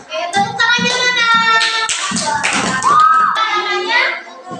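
Children in a classroom clapping in a quick rhythmic pattern together with excited voices and shouts, loud and close throughout.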